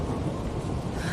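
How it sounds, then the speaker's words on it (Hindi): Dense, steady roar of heavy rain mixed with low rumbling thunder, loud and continuous for a brief moment in a dramatic storm scene. "सूरज की चीख तेज बारिश के शोर और बिजली की कड़कड़ाहट में दब गई।"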